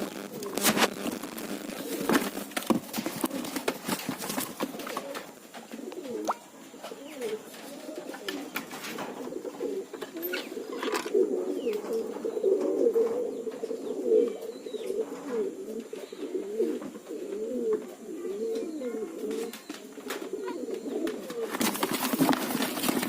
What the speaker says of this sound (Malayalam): നേരം 6:04 പ്രാവ് പറക്കുന്നുണ്ട്.